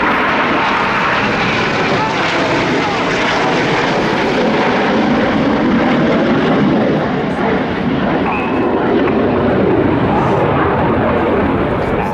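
RAF Red Arrows jets roar loudly and continuously during a flying display at the Royal International Air Tattoo as pilots perform rollbacks, with a broad steady engine wash throughout and a commentator's voice over it.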